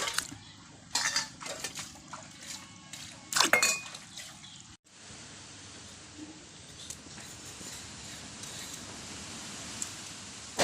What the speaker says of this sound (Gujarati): ટમેટાના ચીબડા આપણે ધોઈ નાખીએ.